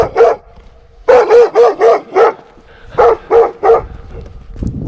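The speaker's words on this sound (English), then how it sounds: "The local dog keeps ruining the scene" A local dog in an old Soviet-era mining town in Latvia barks in two bursts of sharp, evenly spaced woofs, about ten in all, loud and fairly close, with quiet pauses between.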